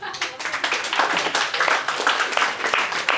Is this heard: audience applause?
yes